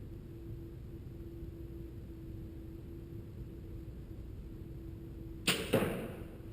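Arrow shot from a bow during archery practice at 20 yards ahead of hunting season; steady outdoor hiss, then one sharp release and thwack near the end, closely followed by a second impact.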